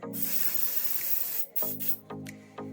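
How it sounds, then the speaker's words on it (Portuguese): Silicone spray hisses from an aerosol can in a long, loud, close burst, followed by several shorter sharp spurts, with no talking. "já botei um pouquinho de silicone aqui, silicone spray"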